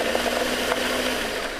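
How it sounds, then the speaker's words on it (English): A kitchen blender whirs steadily as it blends kale and coconut water for a green smoothie, a loud, even motor roar that runs without a break. "So I'm just going to blend this down to make some room in our blender."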